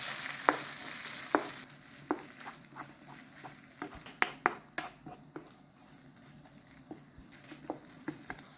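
Pepper paste frying with Italian pastrami in a pan for Mexican chili beans, a steady soft sizzle broken by sharp scraping clicks of stirring, close and without talk.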